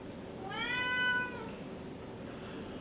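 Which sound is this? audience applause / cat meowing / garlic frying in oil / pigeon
cat meowing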